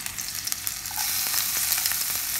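Ginger drops into hot oil with spluttering mustard seeds for Kerala-style tomato rice, and a few sharp crackles swell into a loud, continuous close sizzle, with no voices.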